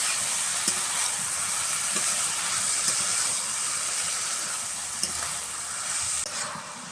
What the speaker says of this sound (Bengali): এবার মোচাটাকে খুব ভালোভাবে কষবো।